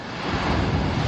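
Strong ocean waves wash onto the beach at Puerto Los Cabos, a broad rushing surge swelling over about a second with blustery wind noise on the microphone.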